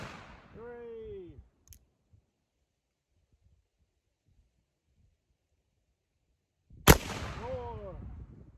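Two loud cap-and-ball gunshots from an 1851 black-powder revolver, one near the start and one near the end, each a sharp blast with a ringing tail, separated by quiet; someone speaks around both shots.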